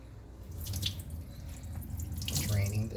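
Water draining and running in a sink while making bulgogi, a steady close gurgling wash with someone talking over it.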